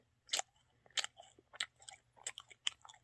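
A crispy convenience store snack with vanilla cream filling being chewed up close, sharp crunchy bites in an uneven rhythm over a quiet background.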